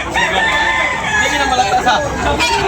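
Roosters crow loudly at a Sunday chicken market in Tabunok, Talisay, Cebu, with several drawn-out calls over a steady crowd babble of people talking nearby.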